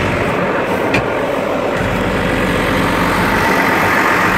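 A John Deere 6120R tractor engine runs steadily throughout, a loud, continuous low rumble in a hay field during horse hay baling, with no speech.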